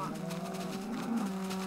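Minecraft cows lowing, several drawn-out, tonal moos overlapping close by over a steady background hum, with a voice speaking briefly.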